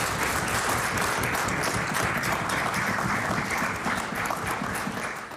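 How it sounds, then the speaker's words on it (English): Sustained applause from members in the House of Assembly chamber, a dense, steady wash of many hands clapping that tapers slightly at the end. "I ask all members of this House to join me in applauding Dan DeSwart"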